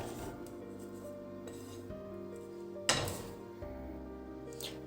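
Cut raw mango pieces drop into a metal pot with one clear clattering knock midway, followed by softer clinks and rubbing against the pot, set against a quiet tonal background.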